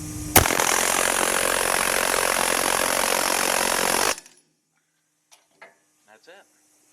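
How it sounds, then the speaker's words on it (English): A loud pneumatic air hammer driving valve guides into a Jeep 4.6 stroker cylinder head rattles continuously for about four seconds, then cuts off, leaving a few faint clicks and taps. "And then finish it off with the air hammer."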